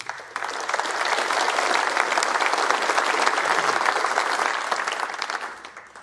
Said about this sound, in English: A round of applause, please, for CEO of World Snooker Tour, Simon Browne